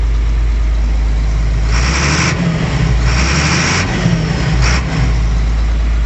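A vehicle engine idles steadily while warming up and charging its batteries, running off a fuel pail, a loud constant low rumble with a few brief rises in pitch.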